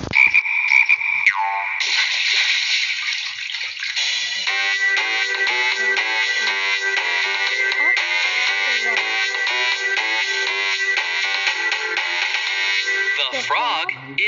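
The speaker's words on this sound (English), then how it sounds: "The frog can jump." A cartoon frog croaks in a steady, buzzy, ringing tone for most of the time, with a synthesized musical quality, followed by a brief warbling sound at the end.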